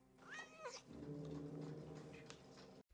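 A cat in the 1979 film Alien gives a drawn-out meow that rises and falls, followed by a low sustained yowl, faint and heard alone.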